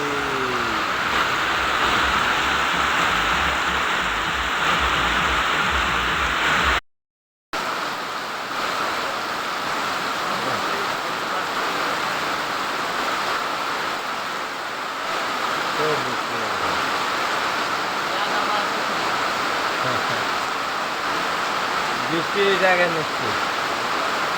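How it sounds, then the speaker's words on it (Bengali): Heavy downpour of rain roaring steadily outdoors, briefly cut off near the start, with what may be a passing vehicle and faint voices in the background. "বৃষ্টিতে যাওয়া যাবে না আমাদের এখানে এত বৃষ্টি থেকে ঝমঝমায়"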